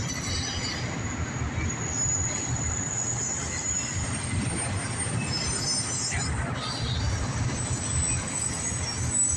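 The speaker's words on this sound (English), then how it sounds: "Autorack train here." A southbound CSX autorack freight train rolls past close by, a loud continuous rumble of wheels on rail with faint squeals and clatter, steady from start to finish.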